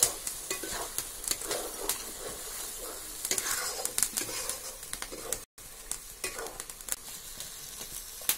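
Spice masala frying in oil in a pot over a village clay stove, a steady sizzle with repeated scraping stirs, close and fairly loud, with no voices.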